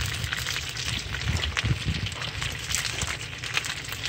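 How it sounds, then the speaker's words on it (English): Constant crackling sizzle of beer can chicken cooking on a hot grill, steady and close, with no talking. "now we're gonna just look at these beer can chicken sizzling"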